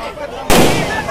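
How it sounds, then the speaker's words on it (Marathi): Firecrackers go off at a Navratri Ravana effigy burning in an outdoor crowd, one loud sudden bang with a broad rumbling decay over a noisy background of chatter. "फटाक्याची आतषबाजी होते, म्हणून त्याच्या अंगावर येऊ शकतं."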